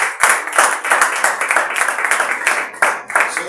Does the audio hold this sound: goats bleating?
no